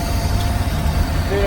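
A 1969 Chevy van engine runs steadily at idle after sitting 35 years, a continuous low rumble with talk over it.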